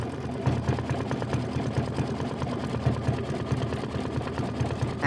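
Embroidery-style sewing machine stitching a dense satin stitch on a quilt block, a loud continuous rapid chatter with a steady rhythmic pulse throughout.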